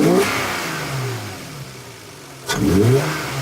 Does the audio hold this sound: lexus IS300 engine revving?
yes